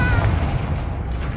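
A Confringo spell blast in Hogwarts Legacy erupts as a loud, dense booming rumble that stays heavy for the whole moment, with no voices over it.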